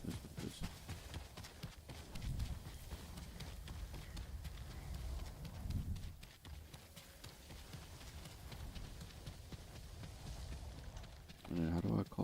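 A horse in a video game gallops with a steady, fairly quiet hoofbeat rhythm as a person talks over it.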